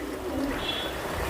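Domestic pigeons at a flight competition coo softly outdoors in strong wind, a brief low cooing under steady broadband wind noise.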